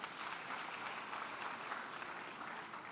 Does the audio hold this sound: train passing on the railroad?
no